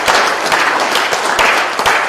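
Audience applause at a computer studies fair, a steady wash of many hands clapping for about two seconds with no voices over it.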